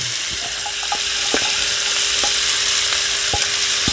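Thinly sliced onions sizzle steadily in melted butter in a pan, a loud continuous frying hiss broken by a few sharp scrapes and taps of a utensil as they are stirred.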